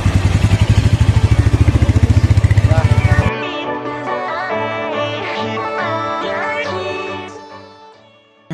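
A Royal Enfield Meteor 350 motorcycle engine idles with a steady, rapid thumping pulse for about three seconds, then it cuts off and music takes over.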